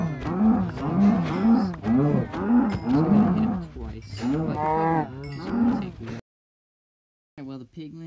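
Several cows moo in Minecraft, a run of repeated blocky lowing calls overlapping at close range, then a brief silence and a final short moo.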